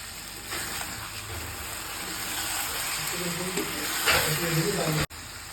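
Spice paste sizzling in oil in a pan while cooking Katla fish curry, a steady close hiss with soft crackles throughout and a short cut near the end.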